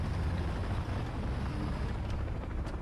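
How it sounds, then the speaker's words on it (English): Helicopter in the War Thunder combat game gives a dense, steady, rumbling roar with a faint chopping throb. It stays loud and unbroken for about three seconds, with no speech. "Yep, it's a helicopter."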